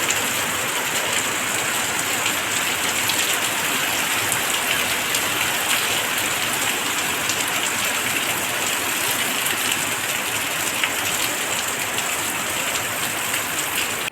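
Steady heavy rain pours down continuously, a dense hiss of drops on surfaces with no pauses, close and loud throughout.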